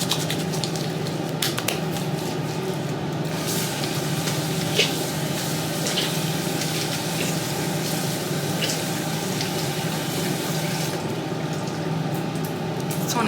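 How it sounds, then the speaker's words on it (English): A tap runs steadily into a sink during handwashing, a constant close rush of water with light splashing and no breaks, and no speech over it. "Wash your hands."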